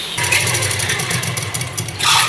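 Sewing machine running steadily as it stitches a blouse lining onto the main cloth, a close, continuous whirring hum with no voices.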